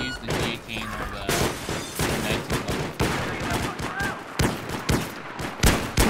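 Rapid, loud gunfire from Magnum pistols in a team deathmatch shooter, sharp shots cracking in irregular quick succession, some overlapping, over busy game noise with occasional voices.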